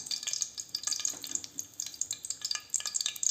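Whole spices, cinnamon, cardamom, stone flower, cloves and bay leaf, sizzle in about ten spoons of hot oil in a pan, a close crackling hiss broken by scraping stirs.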